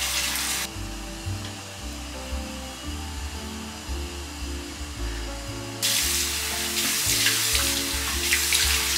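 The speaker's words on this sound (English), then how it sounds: "I'm gonna wash my face." Tap water runs continuously into a sink while someone washes their face, a steady hiss that swells louder near the end, with a low humming drone underneath.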